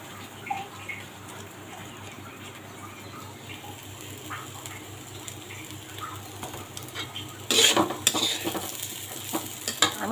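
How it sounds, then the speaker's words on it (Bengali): Rice frying in a pan with shahi garam masala powder for a Bengali biryani, a steady low sizzle with soft stirring, growing louder and busier with sharper scrapes near the end. "এই চালটা একটু ভালো করে ভেজে নিতে হবে, তাহলে একদম ঝুরঝুরে হবে।"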